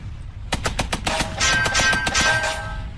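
Rapid bursts of video-game gunfire strike a tank in a Construct 3 combat prototype, a fast rattling volley of about a dozen sharp shots with faint metallic ringing hits, loud and close.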